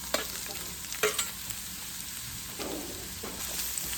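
Onion fries in olive oil with a soft, even sizzle, a few light utensil taps and stirs at the start, fairly quiet and close.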